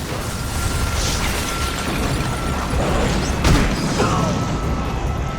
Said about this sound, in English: That explosion came from the shower room.